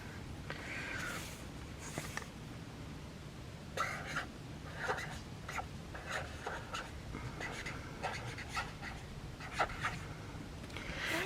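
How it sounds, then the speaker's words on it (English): A dark pink pen writing a word in a bullet journal, heard as short scratchy strokes in bursts against a steady low background hum, close but quiet, with no talking. "You want to see me write February?"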